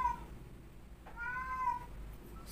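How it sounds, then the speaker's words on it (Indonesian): A cat meows twice at close range, a short call followed by a longer drawn-out one, over a quiet low hum. "Astaga, kucing"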